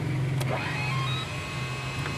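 A truck or tanker starter whirs steadily while trying to crank an engine that will not start, a continuous low electric hum with a faint higher whine, close by and alone.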